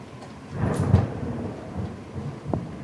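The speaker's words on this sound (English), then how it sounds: "That was one loud thunder." Loud thunder rumbles and rolls for several seconds during a severe thunderstorm in Windsor, Ontario. Steady rain noise sits underneath, and there is a sharper crack near the end.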